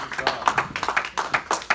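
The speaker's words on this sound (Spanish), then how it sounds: "Un aplauso, mis hermanos." A church congregation claps in quick, uneven bursts during a Spanish-language worship service. The applause is moderately close and sits under and between spoken voices.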